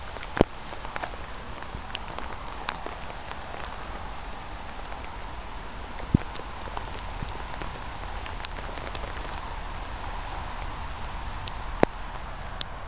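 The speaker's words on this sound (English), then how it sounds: "It's only rain." Rain falling steadily outdoors, a constant fine patter on surfaces with scattered sharper drips and taps standing out near and clear, no voices.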